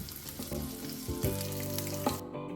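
Sea bass fillets fry skin side down in hot oil, giving a continuous crackling sizzle up close, with faint tonal music running underneath.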